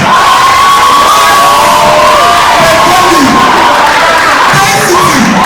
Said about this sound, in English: join me, standing with a round of applause to acknowledge Density.